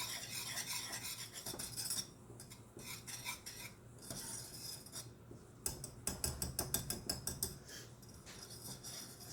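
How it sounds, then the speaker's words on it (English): Spoon scraping and stirring a thick cooking mixture in a pot as it heats toward a boil, with steady rasping strokes and a faster run of rhythmic metallic clinks near the end, close and moderately loud. "once this is combined, you're going to want to keep stirring it"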